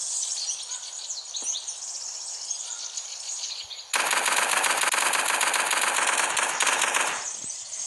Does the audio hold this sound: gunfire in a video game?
yes